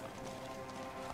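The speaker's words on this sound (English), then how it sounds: "Business like chatter, the lazy neighs of ponies, the clatter of instruments" Ponies in the fantasy game Pathfinder: Wrath of the Righteous, steady clip-clop of hooves with a faint lazy whinny, heard close amid a busy ambient bed of murmuring activity.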